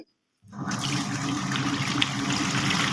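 After a moment of silence, water starts sloshing and churning steadily inside a washing machine as the agitator rotates left and right, a continuous swishing wash noise at close range.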